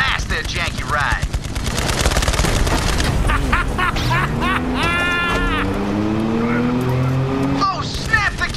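Gunfire blasts a fleeing vehicle in Borderlands 3, rapid bursts over a roaring car engine and skidding tyres, with game music and other game sounds mixed in.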